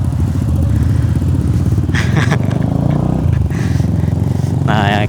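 Motorcycle running on RON 95 fuel while riding, a loud steady engine drone close up throughout, with brief voices and wind noise over it.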